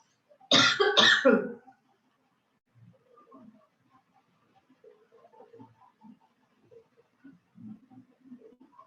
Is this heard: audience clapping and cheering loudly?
no